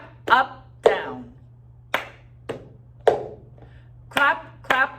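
Rhythmic hand claps alternating with sharp taps of a cup on a surface, a repeating clap-clap-tap pattern played close and clear over a steady low hum, no speech.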